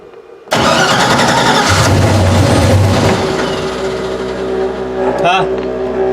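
Car engine with an oil pressure problem cranking, catching and then idling steadily after a sudden start, loud and close, with people talking over it.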